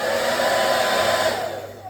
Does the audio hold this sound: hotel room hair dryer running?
yes